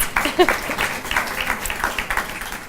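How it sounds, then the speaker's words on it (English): Scattered clapping from the audience at a community agency's annual general meeting, moderately close, with uneven individual claps rather than a full roar, lasting under three seconds. "she still deserves a round of applause"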